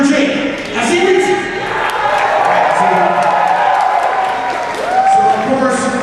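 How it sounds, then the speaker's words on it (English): A fan-convention crowd at Power Morphicon 2012 applauds and cheers steadily, a dense wash of clapping and whoops running throughout, with a voice talking over it. "give them one big round of applause and show the fans that they are welcome"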